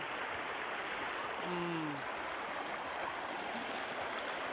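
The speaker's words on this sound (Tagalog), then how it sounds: "Ang ganda ng ilog." River water flows in a steady, even rush, a constant broadband wash at moderate distance with no breaks, and a brief faint tonal sweep rising over it midway.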